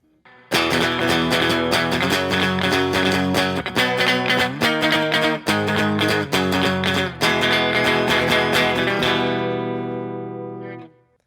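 Strummed guitar chords with heavy effects, changing every second or so, ending on a long ringing chord that fades out. No voices. The progression is from a song.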